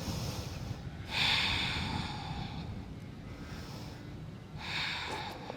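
Deep audible inhales and exhales during a prenatal yoga flow, two broad breathy swells a few seconds apart, close and soft with a steady low hum behind them.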